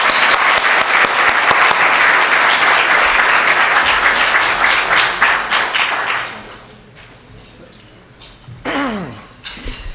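An audience at a research colloquium applauds to welcome a keynote speaker, loud sustained clapping for about six seconds, then fading into room noise and a voice starting to speak.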